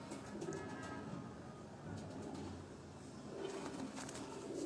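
Pigeons coo softly on a rooftop in Gujranwala, faint low murmuring calls repeating at a distance over steady background noise, with no one speaking.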